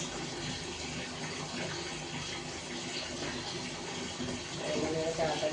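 Tap water runs steadily in a household setting, a continuous near gushing wash that stays fairly even throughout, with a voice talking softly over it.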